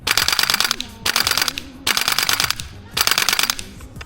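XM7 airsoft gun firing full auto: four rapid bursts of sharp, close mechanical cracks, each lasting under a second, separated by short pauses, with no talk.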